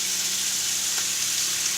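Bacon frying in a pan in an RV kitchen gives a steady, soft crackling sizzle, close and unbroken.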